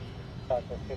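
A Gulfstream 550 business jet gives a low, continuous roar, fairly faint and steady beneath a voice talking.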